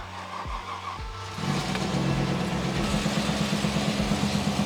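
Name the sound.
car engine revving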